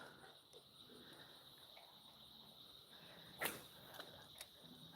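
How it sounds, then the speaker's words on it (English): Faint, continuous high-pitched crickets trill in a quiet outdoor setting by a river, with a few soft clicks and rustles nearby. "Crickets and birds."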